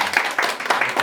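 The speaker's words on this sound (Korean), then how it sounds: "우리 앞에 있는 선생님들 박수 한번 쳐주실래요?" Short burst of audience applause at the close of a Korean social welfare talk on disability awareness, scattered clapping from a small group, moderately loud and close, with a brief voice underneath.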